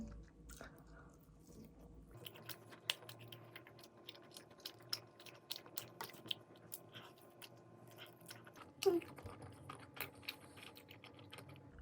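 Someone chews chewy Ministop cheese balls, producing soft, irregular clicks and squishy bites up close in an otherwise quiet room with no speech.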